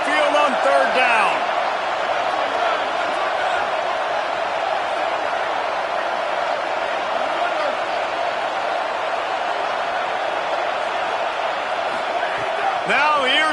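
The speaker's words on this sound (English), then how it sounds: "The Tide crowd rolling noise down onto Saban Field on third down." Alabama crowd roaring at Saban Field on third down in a college football video game, a steady, dense wall of stadium noise that holds at an even level throughout.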